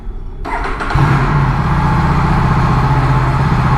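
An Aprilia RS 457 motorcycle engine cold starts with a brief cranking burst, then settles into a loud, steady, close idle with a low rumbling pulse.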